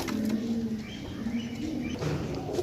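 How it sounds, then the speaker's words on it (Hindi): A Badam Sira pigeon coos close by in soft, low, rolling calls over a steady background hum. "बहुत अच्छा बादाम सिरा कबूतर है।"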